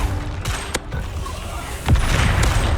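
A Bombarda blasting spell explodes in Hogwarts Legacy, a string of sharp booming bursts with a heavier, fuller blast near the end over steady in-game rumble.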